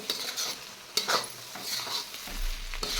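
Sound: roasting spices with turmeric in a pan for poha

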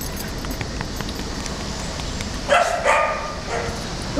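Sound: black dog barking

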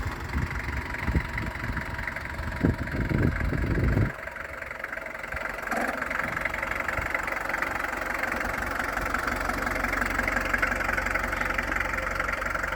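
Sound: diesel camper van engine idling

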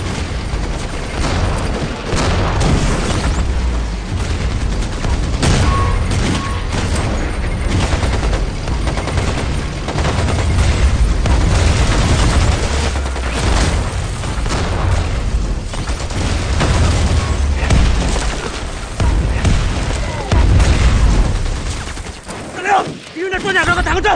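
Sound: artillery bombardment and explosions in a war film

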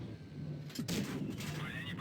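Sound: tank gun shots in World of Tanks Blitz video game

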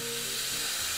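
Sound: Lavazza capsule coffee machine purging steam wand

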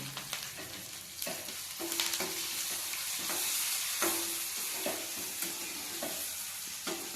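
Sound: chopped chillies frying with onions and curry leaves

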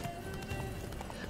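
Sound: horse Roach galloping in The Witcher 3 video game

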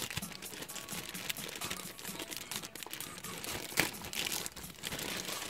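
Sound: opening a speaker box, crinkling packaging

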